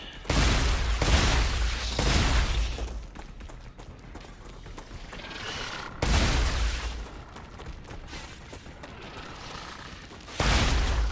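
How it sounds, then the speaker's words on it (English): Grenade blast and gunfire in the sci-fi shooter StarRupture: heavy booming bursts at the start, again near six seconds and at the end, with dense rattling shots and mechanical clatter between them, loud and close. "It's a good use for that grenade."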